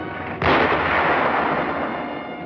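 Heavy enemy artillery fire in a 1945 World War II battle for San Pietro, Italy: a sudden loud blast erupts and rolls on as a dense, sustained roar of distant and near shelling, with no voices.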